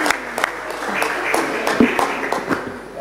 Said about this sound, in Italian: intanto fatevi un applauso perché questo è il nuovo consiglio comunale